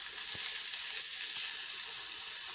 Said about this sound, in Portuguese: Eu vou estar colocando meia cebola picadinha. Vou deixar essa cebola dar uma murchadinha.